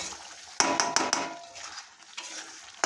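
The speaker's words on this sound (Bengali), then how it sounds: "আজকে চিকেনে পুরো 1 প্যাকেট মিট মশলা দিয়ে দিলাম, ছোটো প্যাকেটে দিয়ে খুব ভালো করে মশলাটাকে কষিয়ে নেব।" Chicken coated in meat masala is stirred and fried in a pan, with several sharp spoon knocks against the pot over a soft, low sizzle, close and fairly quiet.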